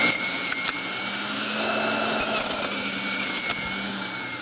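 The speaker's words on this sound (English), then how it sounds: "So we're gonna juice a little cucumber." A Breville juicer motor whirs steadily and loudly throughout, with a high whine and grinding as a cucumber is juiced.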